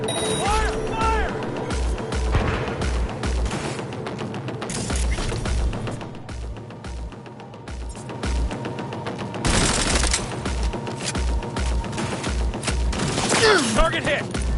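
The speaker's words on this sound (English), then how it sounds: "Firing at close range!" Sustained automatic gunfire rattles at close range in a Cyberpunk game, dense bursts repeating throughout with brief lulls, loud and near, while voices call out over the shooting.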